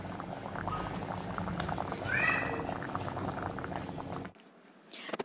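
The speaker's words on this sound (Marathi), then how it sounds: "आता याला एक चांगली उकळी आलेली आहे" A pot of jackfruit curry bubbles at a steady boil, a soft continuous simmer with faint gurgles that cuts off abruptly near the end.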